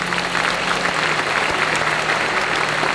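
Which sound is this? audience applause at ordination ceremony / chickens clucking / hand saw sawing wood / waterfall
audience applause at ordination ceremony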